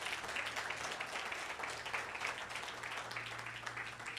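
A church congregation applauding during a Spanish-language sermon, a steady, fairly quiet patter of many hands that holds evenly throughout.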